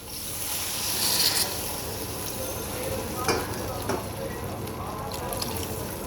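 Water poured into a frying curry of spiced tengra fish masala to make the gravy, a sustained hiss and sizzle from the hot pan with a few soft clinks, heard close and steady.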